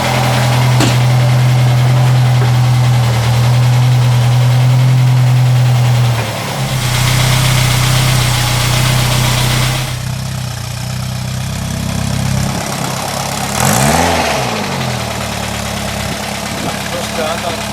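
A restored vintage car engine runs and idles nearby with a low, steady rumble, dipping briefly and then revving as voices talk over it throughout.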